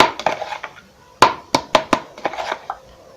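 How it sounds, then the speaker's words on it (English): A metal spoon stirs sugar and flour together in a bowl for a peanut burger batter, giving a run of scraping strokes and several sharp clinks against the bowl's side at close range, with no talking. "I'm going to mix this well once again because the sugar must have settled down"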